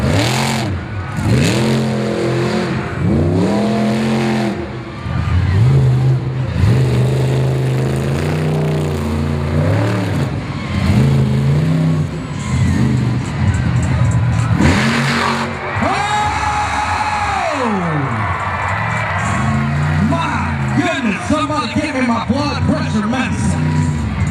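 Monster truck Barbarian revving hard at an outdoor arena show in Miami, Oklahoma, engine surging and rising in repeated loud bursts through a two-wheel run and donut on a dirt track, with an announcer talking over it throughout.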